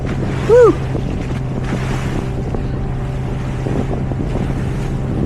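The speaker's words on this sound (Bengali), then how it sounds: "সমুদ্রের ঢেউ আর নৌকার উঠাং থাং আমার কাছে খুব ভাল লাগে" A boat out on the sea off Bali runs through waves, giving a steady rumbling engine drone mixed with wind buffeting the microphone and wash of water, continuous throughout with a brief tonal chirp near the start.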